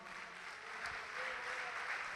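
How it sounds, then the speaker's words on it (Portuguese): Church congregation applauding during a Portuguese-language sermon, a steady, fairly faint wash of clapping that holds evenly throughout without talk over it. "Vamos aplaudir o Senhor."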